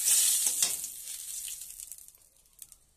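Tamarind water poured into hot oil tempered with spices and torn dried red chillies for a sour fish curry, giving a loud burst of sizzling that fades over a few seconds into a quieter, crackling simmer.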